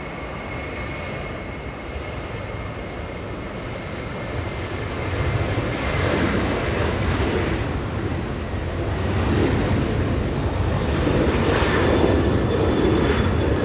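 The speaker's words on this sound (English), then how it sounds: "WestJet 1511, flying to Calgary, a 737-800." A WestJet Boeing 737-800 jet departing Los Angeles International Airport for Calgary, its steady broadband engine roar building slightly louder and holding throughout with no voices.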